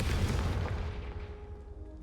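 A Confringo fire spell explodes in the Hogwarts Legacy video game: one loud, deep boom that starts hard and then slowly rumbles and fades over about two seconds, with no talk over it.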